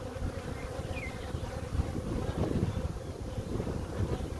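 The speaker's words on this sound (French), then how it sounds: "Ah, ce vent" Wind gusts buffet the microphone beside beehives while bees buzz and drone close by, a rough continuous roar that swells midway with no talking.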